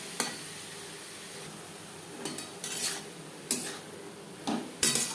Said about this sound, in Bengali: কালো জিরে ও কাঁচা লঙ্কার সাথে থোর বেশ ভালো করে মিক্স করে দেবো।